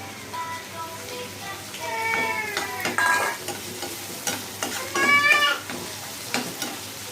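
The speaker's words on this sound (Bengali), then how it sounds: "এখন আমি দিয়ে দিয়ে একটু ভাজা ভাজা করে নিচ্ছি" Dried fish (shutki) fries in oil in a pan while being stirred, giving a steady close sizzle broken by repeated scraping and clattering stirring strokes, with brief bursts of louder crackle and no talking.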